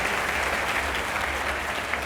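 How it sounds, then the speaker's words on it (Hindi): Loud, steady applause from an audience welcoming a guest onto a stage at a televised debate, a dense continuous wash of clapping that holds evenly throughout. "मैं चाहूंगा इनका और जोरदार तालियों के साथ स्वागत किया जाए"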